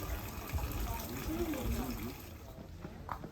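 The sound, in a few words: water from a Shinto shrine's water basin, hand washing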